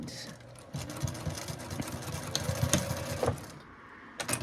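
A sewing machine back stitches at the end of a fabric lanyard strap: a close, rapid mechanical whir and needle clatter runs for about three seconds, then stops, followed by a couple of soft clicks.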